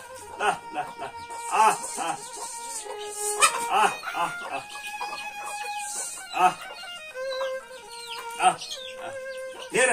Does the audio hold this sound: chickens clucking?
yes